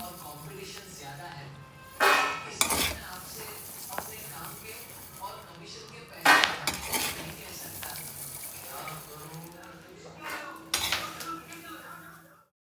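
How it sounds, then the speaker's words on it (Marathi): Roasted salted peanuts tipped from a pan onto a metal plate in a home kitchen, with three loud clattering bursts of dishware and rattling nuts spread over the clip and quieter scraping and handling in between. "मी गॅस बंद करते आणि हे ना ताटामध्ये काढून घेते"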